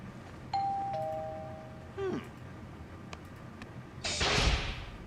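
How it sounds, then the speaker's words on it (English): Doorbell chimes in LEGO Star Wars: The Skywalker Saga, two sustained electronic tones followed by a brief falling warble, then a soft whooshing burst near the end, fairly quiet with no voices. "That is one immersive doorbell."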